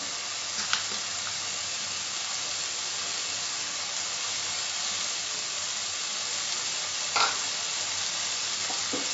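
Ginger-garlic paste sizzling in a hot pan while cooking a spicy tomato crab dish: a steady, dense frying hiss throughout, with a couple of brief louder spatters and stirring scrapes, no voices.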